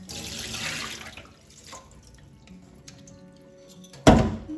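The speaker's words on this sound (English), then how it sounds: "Don't be afraid to give it another little rinse." Running water rinses sushi rice in a kitchen sink, a brief splashing stream at first, then quiet handling and a sharp thunk near the end.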